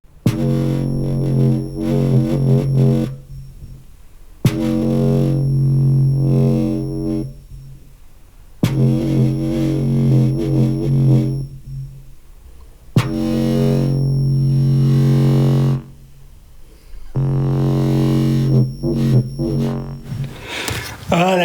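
A rattling aluminium foil tray is used as a bass sound source, giving buzzy, distorted low tones in repeated phrases separated by short pauses, loud and close.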